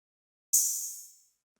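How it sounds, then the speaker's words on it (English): A single soft, subdued open hi-hat hit, a bright airy sizzle that rings for about a second and fades out, programmed in FL Studio. "And then there's a second open hat, which is a bit more subdued,"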